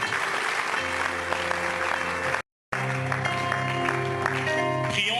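Church congregation clapping in steady sustained applause during a worship service, a continuous crackle of many hands with music tones running beneath, broken by a brief silent gap before the clapping resumes.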